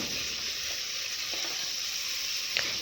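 Chillies, large onions and salt fry in a pan with a continuous close hiss and faint sizzling, a few light scrapes from mixing and a brief clink near the end, with no talking.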